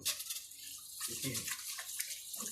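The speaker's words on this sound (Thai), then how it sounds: "เอาล้างมือล้างมือให้ดู" Hands being washed under running water outdoors at a garden home, with a steady hiss of flowing water and splashing as the hands move under the stream, moderately close and continuous.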